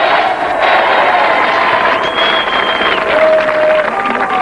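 Studio audience applause for a comic performer on a French television show, a dense continuous wash of clapping and crowd noise at steady loudness with faint whistles cutting through.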